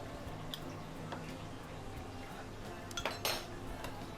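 A spoon stirs green vegetables into a pot of coconut-milk curry, making soft scraping and light metallic clinks with wet squishing, ending in a brief sharper clank near the close.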